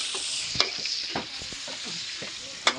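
Onions dropped into a hot frying pan, giving a steady close sizzle with occasional sharp pops and clinks of a utensil against the pan.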